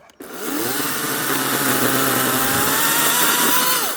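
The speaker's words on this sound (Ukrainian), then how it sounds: "Як швидко порізати горіха. Беремо пилку." A power saw starts up and runs continuously, a loud buzzing whine with a slight pitch drift as it cuts through wood.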